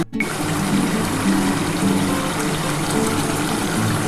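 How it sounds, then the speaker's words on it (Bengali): Water poured in a small amount into a pan of pabda fish curry, a steady splashing hiss running the whole few seconds after a brief quiet start, close and fairly loud with no talking. "অল্প কিছু একটু জল দিয়ে দিলাম"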